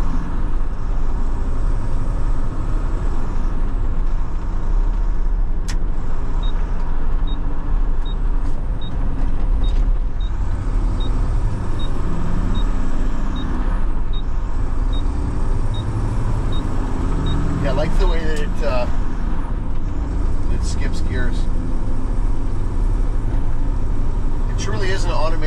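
A Mack truck with an mDrive automated transmission pulls under load, with a continuous low engine drone inside the cab and shifts taken one gear at a time.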